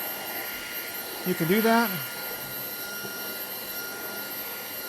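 Whining motor hum of a SUNSMAI cordless wet dry vacuum running steadily as it sucks up debris, with someone talking over it at close range.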